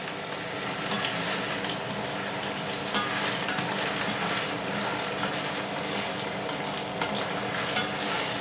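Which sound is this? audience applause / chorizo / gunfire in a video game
chorizo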